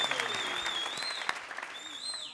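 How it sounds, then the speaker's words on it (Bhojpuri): Studio audience applause on a Bhojpuri TV show, a moderate burst of clapping from many hands under a held musical tone and some voices, continuing steadily for a couple of seconds. "बहुत बढ़िया, जोरदार ताली।"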